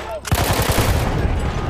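A grenade blast in the Battlefield 1 video game bursts suddenly and loudly after a brief quiet moment, followed by a dense, rumbling roar of debris and battle noise.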